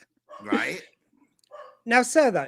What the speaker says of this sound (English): apologies for my dogs in the background there